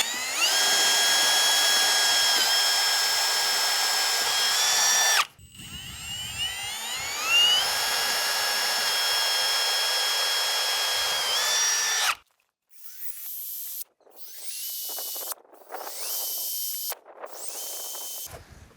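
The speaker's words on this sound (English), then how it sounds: "you'll take a 3/16 drill bit, center it on the crosshairs," A power drill with a 3/16 bit whines at high pitch in long sustained bursts while drilling holes in a wall to mount metal house numbers, pausing between holes, then several short, quick bursts near the end.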